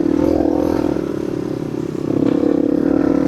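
Motorcycle engine with a straight-through exhaust, a loud, steady low idle with a rough, rapid pulsing throb held close for a few seconds, no talk.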